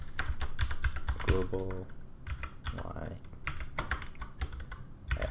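Keys clatter on a computer keyboard in quick bursts while something is renamed in SolidWorks, close and moderately loud, with someone speaking briefly between the keystrokes.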